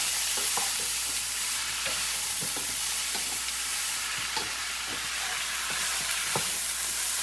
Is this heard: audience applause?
no